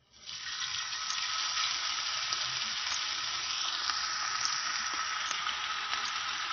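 Chapli kebab patties, pressed thin by hand, frying in a pan over very low heat: a steady, continuous sizzle with a soft crackle, close and even throughout, with no talking.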